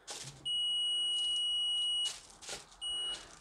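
A multimeter continuity beep sounds as a steady tone for about a second and a half, then a shorter beep follows after brief rustling, during a Luxor ABC80 keyboard repair.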